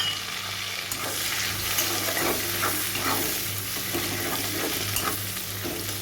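Chopped onions, cut into large chunks, sizzle and fry in a pan for chilli chicken, a steady close hiss with occasional stirring scrapes throughout, no talking.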